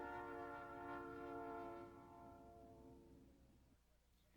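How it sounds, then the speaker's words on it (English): A Southern Pacific railroad train sounding a chorded horn that holds for a couple of seconds and then fades, with low rumbling wheels underneath, fairly faint and distant. "We also run a railroad."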